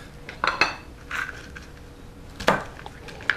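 A knife taps and thuds on a board while splitting peeled garlic cloves, a few sharp close knocks separated by pauses.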